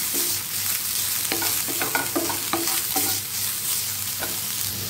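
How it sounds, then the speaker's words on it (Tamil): Grated coconut sautéed in a little oil in a pan, a constant close sizzle with a spatula scraping and stirring in irregular strokes, steady and fairly loud with no voice. "தேங்காயை நல்லா வதக்கிக்கலாம்."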